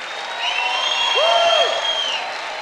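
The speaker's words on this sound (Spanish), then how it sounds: "¡Aplauso fuerte!" A concert crowd applauds loudly after a trumpeter is introduced, continuous clapping and cheering with high whistles sliding over the noise.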